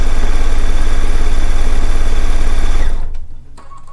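A sewing machine stitches down fabric binding at a 2.5 mm stitch length, running as a fast, even, loud chatter for about three seconds before it stops abruptly.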